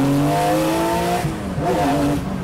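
Gunther Werks Porsche Speedster engine pulling hard under acceleration, a loud, close, rising tone that drops sharply at a downshift and then climbs again, with no talk.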